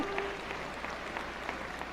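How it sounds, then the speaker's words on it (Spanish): A crowd applauds at a political party event in Mexico, a soft, diffuse patter of clapping heard at a moderate distance and holding steady for a brief moment. "Quiero solicitarles un aplauso global para todos ellos"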